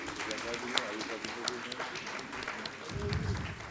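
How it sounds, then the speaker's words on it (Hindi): An audience at a live Hindustani vocal and tabla concert claps continuously, a steady wash of applause, while a voice speaks over it. "तालियों में कमी नहीं होनी चाहिए हमारे इन कलाकारों के लिए।"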